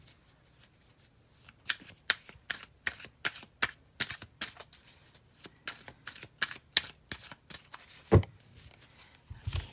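A deck of tarot cards being shuffled by hand: a steady run of crisp riffling bursts and soft slaps repeating at an even pace, close and clear with no talking.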